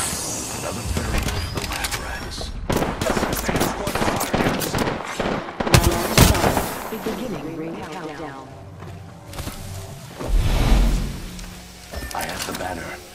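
Rapid video game gunfire in a team shooter match, with bursts of automatic weapon fire and single shots, loud and close, under frequent shouted callouts from players talking throughout.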